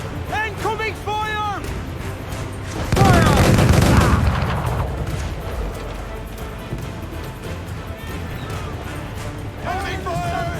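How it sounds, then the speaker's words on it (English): Cannon fire from naval combat in Assassin's Creed IV: Black Flag, a loud burst of heavy booming volleys roughly midway through, set amid crew shouts and other voices that continue before and after. "Incoming fire!"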